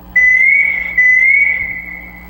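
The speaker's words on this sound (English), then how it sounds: "Alright, so now that I have the whistle sound set up," A synthesized whistle sample run through a low-pass filter with LFO panning and reverb holds a steady, clean tone that restarts once partway through, then sustains and slowly fades.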